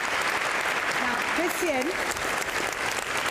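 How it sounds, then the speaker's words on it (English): Audience applause at a UN Secretary General debate event, a broad steady wash of clapping filling the hall from start to finish while a voice speaks briefly over it. "if you could please give him a round of applause"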